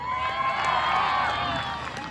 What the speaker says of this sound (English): A round of applause for Sir George.